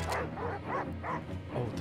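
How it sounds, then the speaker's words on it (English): Dogs bark in the Fortnite video game, a run of rhythmic, loud barks and yips repeating about every half second, close and filling the short moment. "Oh, the dogs."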